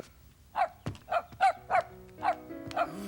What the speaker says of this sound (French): Il aboie, grand-maman.